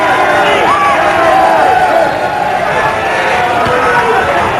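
A huge crowd at a golf tournament roars and cheers in a dense, continuous wash, with whoops and whistles rising through it.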